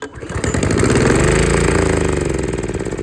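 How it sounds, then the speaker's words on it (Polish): An old lawn mower engine, thirteen years in use with a blown head gasket and carburettor trouble, runs loud and close with a rough, pulsing idle that puffs unevenly as compression leaks away. "musiała się zepsuć uszczelka pod głowicą, bo bardzo słychać jak ucieka kompresja"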